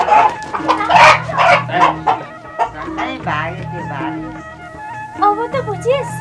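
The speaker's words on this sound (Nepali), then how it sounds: "बाउले र मैले भाले किनेर लिएर आएको छौँ।" A rooster clucks and calls in short bursts near by, loud and uneven, while people talk around it.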